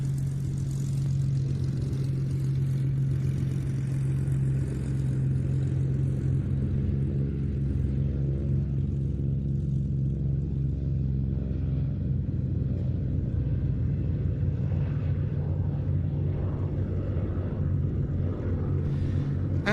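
A Corsair fighter's piston engine drones steadily at a flying display, a continuous loud propeller rumble with a strong low hum that holds for the whole stretch, no voices over it.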